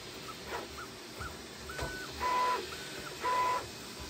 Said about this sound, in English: you can kind of hear the bed going back and forth, but the biggest noise is the blower fan.